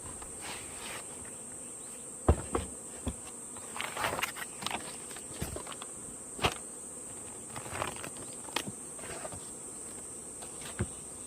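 Hornets buzz around beehives in a continuous insect hum, with scattered close, sharp taps and brief louder passes as they fly near.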